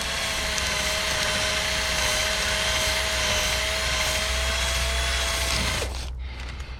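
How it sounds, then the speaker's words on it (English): A steady, loud power-drill whine, drilling out quarter glass trim on an Audi S5, runs continuously for about six seconds with a constant pitch, then cuts off abruptly, leaving quieter background noise. "you may even have to turn this drill a little bit, make sure it's still centered"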